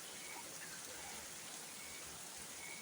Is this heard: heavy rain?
yes